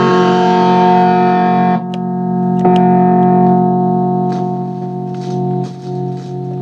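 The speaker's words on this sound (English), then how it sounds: "So we got a working sound tank Tube Screamer." A guitar played through a Sound Tank Tube Screamer overdrive pedal rings out with loud, sustained distorted chords that are cut off and restruck a few times, with no voices.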